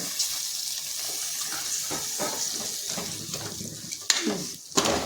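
Water pours and splashes into a pan of frying chicken with a light sizzle, followed by a couple of sharper clatters near the end.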